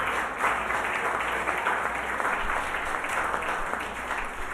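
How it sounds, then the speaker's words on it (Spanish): Church congregation giving loud, sustained applause to God for the children, a continuous wash of many hands clapping with no pause. "¿Que no le das un fuerte aplauso a Dios por la vida de ellos?"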